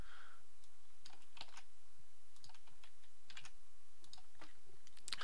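Copy and paste shortcut keys are pressed on a computer keyboard while using a calculator, giving a sparse series of close, crisp key clicks with short pauses between presses.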